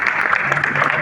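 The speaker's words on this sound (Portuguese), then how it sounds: "uma salva de palmas pro Murilo de novo." Audience applause for Murilo at a Brazilian talk on zero-waste cities, a dense burst of clapping from many hands throughout, with a voice faintly under it.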